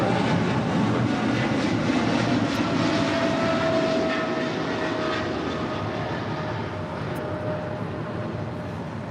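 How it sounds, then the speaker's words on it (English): Philippine Airlines Flight 112 in from Manila touches down on runway 24 right at LAX, a steady, loud jet roar that holds with a faint whine and fades slightly toward the end. "We also had Philippine Airlines Flight 112 touching down on 24 right coming in from Manila"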